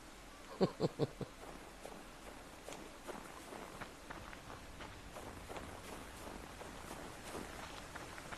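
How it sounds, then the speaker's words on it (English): Footsteps crunch steadily over snow in the survival game Subsistence, a few louder steps at first, then a quieter even rhythm of crunching. "The snow sounds extra crunchy today."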